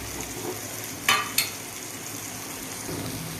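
Bitter gourd frying in a pan, with a low steady sizzle throughout and two brief, sharp scraping stirs near the start.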